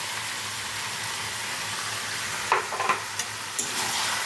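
Ginger, garlic, chili and tomato paste sautéing with fried pumpkin in a pan, a steady close sizzle with a few sharp scraping stirs near the end.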